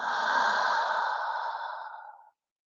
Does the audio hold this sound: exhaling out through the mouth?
yes